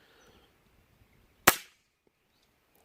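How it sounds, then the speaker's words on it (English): A single sharp, unsuppressed crack from a Weihrauch HW100T PCP air rifle fired in an open field, one loud isolated report with a brief decay, then quiet. "so you're purely just getting the sound of the rifle"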